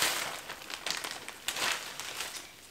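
Plastic shopping bag crinkling and rustling while a luxury purchase is unpacked, a near, steady crackle with several louder bursts across a few seconds.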